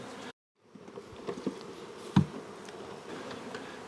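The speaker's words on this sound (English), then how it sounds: "So this colony has swarmed." Honeybees from a swarmed colony buzz in a steady, moderately close drone that hangs continuously in the air, with a few soft knocks and rustles breaking through it.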